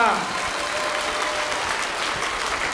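Dense, continuous applause from a gathered crowd fills the space at a steady level, loud and unbroken throughout.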